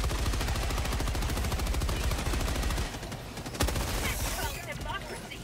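Dense rapid gunfire and explosive bursts from a Helldivers 2 firefight, loud and continuous for nearly three seconds before giving way to a sharp blast and scattered impacts.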